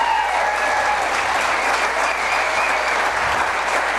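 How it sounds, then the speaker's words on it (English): An audience at a political campaign kickoff event on a farm claps in sustained, even applause, dense and steady throughout with no voices standing out. "Let's give you a round of applause."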